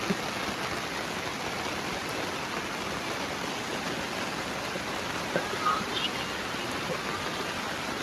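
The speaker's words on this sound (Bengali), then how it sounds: "প্রচুর পরিমাণে বৃষ্টি, দেখুন" Heavy rain pours down steadily outdoors, a dense, even hiss of falling water that is constant and close throughout with no voices.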